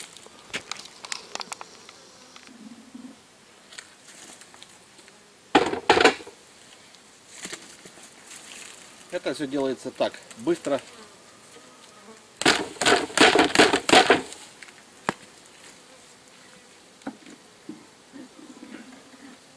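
Honey bees are shaken from a bucket into a plastic garbage bag, giving a buzzing hum broken by loud bursts of rustling and shaking, while someone speaks briefly in between.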